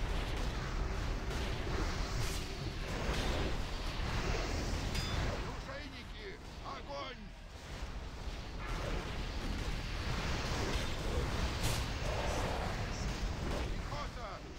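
Cannon fire rumbling through a World of Warcraft Icecrown Citadel raid on 25-player heroic mode, dense booms and bursts layered over continuous battle noise and overlapping voice chat for the full stretch.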